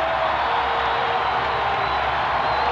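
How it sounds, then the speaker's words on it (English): Steady, dense roar of a large crowd at Clemson's football stadium during a 1981 game against Wofford, a continuous wash of noise from start to finish with no distinct cheers or voices standing out. "there's the crowd noise"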